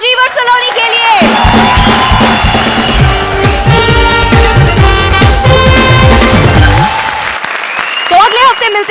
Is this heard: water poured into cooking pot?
no